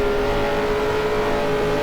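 A 1978 Indianapolis 500 race car in a racing game holds a steady, loud engine drone with a high whine, gathering speed again after running in heavy dirty air, with no one talking.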